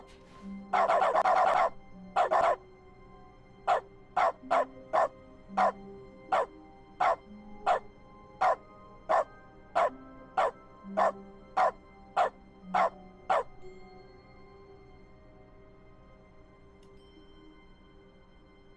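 A dog barks in dog mode in the video game The Stanley Parable: Ultra Deluxe, a long series of evenly spaced, sharp single barks, close and clear, after a brief burst of louder noise, with a low hum underneath.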